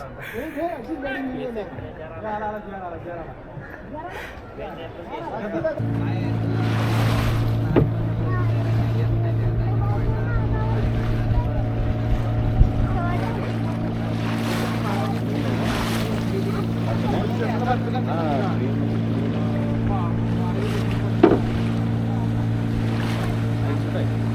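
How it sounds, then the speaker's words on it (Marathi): A motorboat comes in across open water. A steady engine drone swells in after a few seconds and holds over wind and waves. People talk over the engine throughout. "बोट आली आपली"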